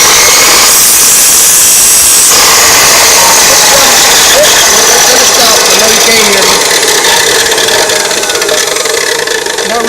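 A chop saw with an abrasive disc grinding a tooth of a Woodmizer sawmill blade, a loud continuous motor whine with a harsh rasping grind as it touches the metal.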